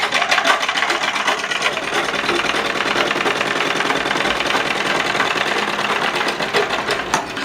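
A sewing machine stitches a 3/4-inch side seam on the wrong side of the fabric while making a kerchief, a loud, close, continuous fast whirring and clattering with no speech.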